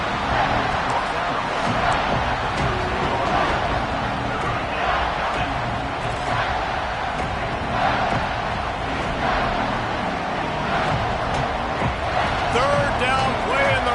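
A roaring football stadium crowd during a USC versus Ohio State game, a dense, continuous wall of cheering and yelling that stays loud throughout, with a commentator talking over it.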